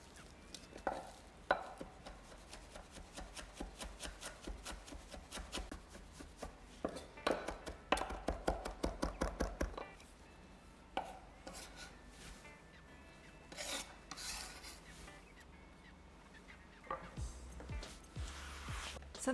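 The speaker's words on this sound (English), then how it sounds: "now I'm going to chop some parsley, just the same way as the coriander" Rapid knife chopping of fresh parsley on a cutting board, with bursts of quick close taps and pauses in between, plus some scraping and rustling of the herbs.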